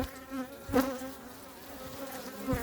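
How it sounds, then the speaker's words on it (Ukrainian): Aggressive honeybees buzz close by at an opened hive in a steady drone, with individual bees swooping past louder now and then. "О, бджоли атакують ще. Бджоли агресивні."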